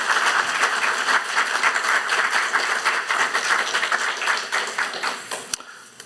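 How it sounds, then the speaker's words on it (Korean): Congregation applause in a Baptist church during a pastor's installation service, dense steady clapping that tapers off near the end. "취임사 말씀 전해 주실 때 큰 박수 해주시기 바랍니다."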